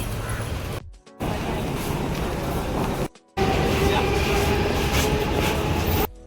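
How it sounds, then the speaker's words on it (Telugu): A Mumbai harbour line local train rumbles and rattles steadily at close range, broken by two brief dropouts, with a busy platform-like wash of noise throughout. "ఇదే అనమాట లోకల్ ట్రైన్స్"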